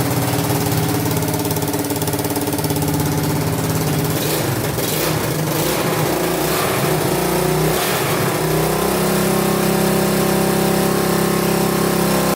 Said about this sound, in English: Let her warm up with the choke on for a little bit.